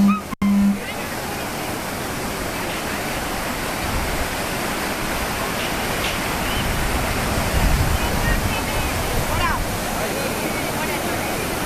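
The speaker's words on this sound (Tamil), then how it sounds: "குற்றால மெயின் அருவியில் திடீர் வெள்ளப்பெருக்கு ஏற்பட்டுள்ளது" Heavy water roars continuously at the Courtallam main waterfall during a sudden flash flood, a dense broadband rush of falling water, loud and unbroken throughout.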